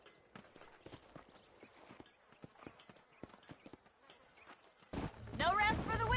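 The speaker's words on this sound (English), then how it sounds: "These are fine horses." Horse hooves clip-clop in a steady trot across the ground in the Western video game Red Dead Redemption, soft and fairly close, before a louder burst of voices and game sounds cuts in near the end.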